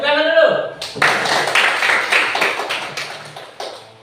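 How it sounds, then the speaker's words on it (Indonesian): A classroom of students breaks into brisk clapping at a teacher's prompt, a dense burst of hand claps after a brief spoken cue, continuing steadily and close by. "Tepuk tangan dulu."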